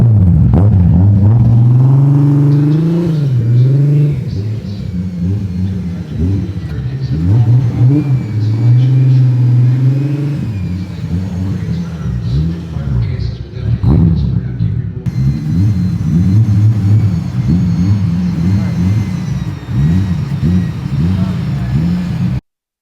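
A Toyota Supra's engine rumbles and revs as the car rolls into the SEMA show, close and loud, with rising and falling revs and a steady idle later, while people talk over it.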